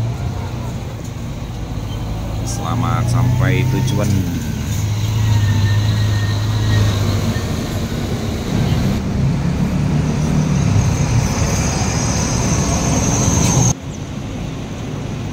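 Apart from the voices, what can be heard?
Rosalia Indah double decker bus departing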